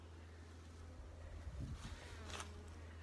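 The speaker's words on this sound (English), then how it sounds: "I have bees harassing the shit out of me." Faint buzzing of bees flying close by during beekeeping, rising briefly as one passes near, over a low steady hum.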